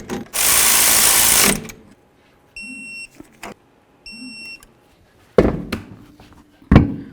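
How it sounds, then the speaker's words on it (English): Caliper slider bolts on a 1994-2004 Chevy S-10 brake are snugged up with a power tool: a loud burst of whirring, then short electronic beeps and several sharp metallic clicks and clacks between quiet gaps. "I'm going to hold the slider so it doesn't spin and snug it up."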